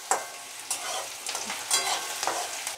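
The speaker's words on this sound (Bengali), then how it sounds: "পেঁয়াজ রসুনটা একটু ভালো করে ভেজে নেব" Onion and garlic fry in hot oil in a wok, a close, busy sizzle broken by several scraping stirs at irregular moments.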